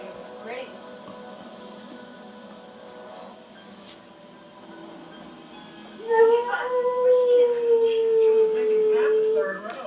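A dog howls indoors in a home, a long rising and wavering wail that starts partway through and holds for several seconds, close by over quiet background hum.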